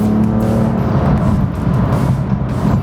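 A BMW F80 M3 fitted with Pure Turbos pulls hard under full acceleration, its engine roaring loud and close with a steady, continuous drone and no talking.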